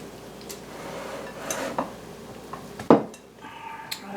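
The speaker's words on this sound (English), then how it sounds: "Okay, now I'm going to stir this all together." Potato and cabbage colcannon stirred in a pot, with faint scraping and light clinks of a utensil against the pot and one sharper knock near the end, all quiet and close.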